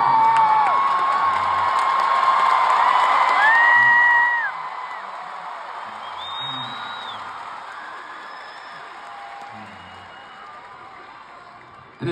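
A concert crowd at a show cheers, whoops and applauds loudly for about four seconds, then the roar fades into a softer, scattered ovation.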